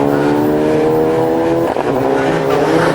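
A rally championship winning CHR race car accelerates hard away, its loud engine roaring close with strong harmonic drone and a brief gear-change dip, tyres scrabbling under the revs.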